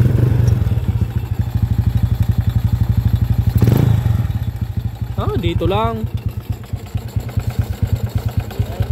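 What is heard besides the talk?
motorcycle engine running with timing chain noise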